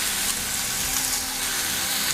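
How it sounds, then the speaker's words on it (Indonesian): Green beans stir-fry in a hot pan, giving a steady, loud, bright sizzle that continues evenly for a couple of seconds without any voices. "Tumis-tumis sebentar, lalu bumbui dengan 1 sendok teh garam atau secukupnya"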